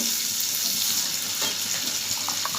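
Onions hit hot oil in a pan, giving a loud, steady rushing sizzle that stays even throughout with no speech.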